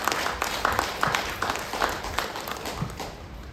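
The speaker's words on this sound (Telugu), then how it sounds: "అందుకని మనకి మనం గట్టిగా చప్పట్లు కొడుతున్నాం." Audience clapping at a spiritual talk on the Shiva Sutras, a steady mid-distance patter of many hands with some sharper individual claps, fairly soft overall.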